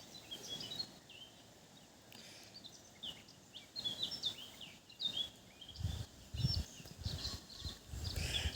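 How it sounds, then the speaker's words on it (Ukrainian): A bird sings outdoors in scattered bright chirps and short trills. The song is moderately faint against a steady background hush, with a few low thumps and rustles near the end. "і так співає пташка гарно"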